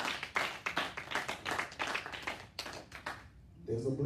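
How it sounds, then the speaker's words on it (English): A congregation at a Christian morning worship service claps hands in quick, uneven bursts for about two and a half seconds. The clapping then thins out, and a voice comes in at the close. "Clap your hands now if you agree."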